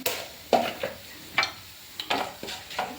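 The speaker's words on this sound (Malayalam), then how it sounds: "വലിയ ജീരകം കൂടി ഇട്ട് കൊടുക്കാം" Fennel seeds hit hot oil in a pan for a breadfruit curry, and a soft sizzle plays under a series of sharp spoon scrapes and clinks against the pan, spaced irregularly and heard up close.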